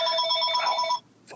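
A telephone rings loud and close, a rapid trilling bell that repeats steadily for about a second, cuts off, and gives way to brief quiet and a faint noise after.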